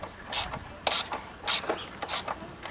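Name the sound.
ratchet tightening oil filter housing bolt on Ford Mustang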